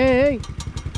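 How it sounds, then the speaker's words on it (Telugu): A damaged motorcycle idles with a steady, low, pulsing putter. A voice speaks briefly over the start before the engine carries on alone. "ఇంజన్ సౌండ్ వస్తుంది"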